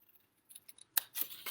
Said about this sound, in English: I'm going to take my scissors, and this block right here, this rectangle right here, you're just going to completely cut away